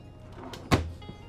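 A file drawer in a 2015 Newmar Dutch Star 4369 motorhome slides and shuts with a single short, firm thump amid a faint rolling rustle, brief and close, with no speech.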